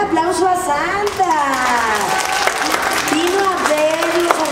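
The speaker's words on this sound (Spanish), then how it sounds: "¡Un aplauso a Santa!" A crowd claps steadily in applause for Santa at a children's toy-donation event while voices talk and call out over it in Spanish.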